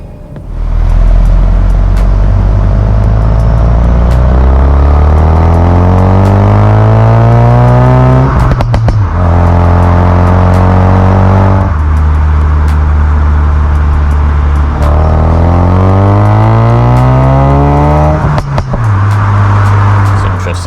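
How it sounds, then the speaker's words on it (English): A loud Ford Focus RS Mk3 exhaust rising in pitch through several gears while accelerating, each shift marked by a brief dip before the engine roars up again, heard close. "have a bit of a listen to how the exhaust sounds"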